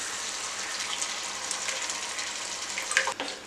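Tamarind water poured into a hot frying pan while making kuzhambu, a bright hiss and splashing sizzle that holds steady for a few seconds and ends with a small spattering burst, no talking.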